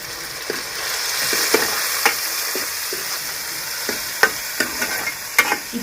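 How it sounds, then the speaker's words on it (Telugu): Tomatoes frying in a pan for gongura pulao, a steady sizzle punctuated by sharp spoon taps and stirring scrapes at irregular intervals. "ఇంక ఇప్పుడు టమాటా పండ్లు అయితే వేసుకుందామండి."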